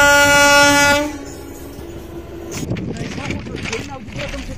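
A train blasts its horn loudly for about a second, then its cars rumble and clatter past close by, with a voice calling out over the noise.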